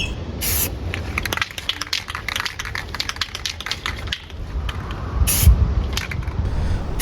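An aerosol can of spray paint, warmed before use, coats alloy wheels in short close hissing bursts, with a brief rattle between sprays and no talking.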